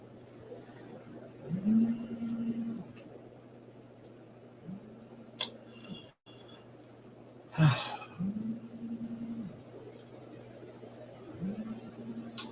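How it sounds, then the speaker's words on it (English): A low, steady buzzing hum pulses in repeated bursts of a couple of seconds each, with brief gaps between, over quiet room noise and a sharp knock. "That is the sound of my phone buzzing"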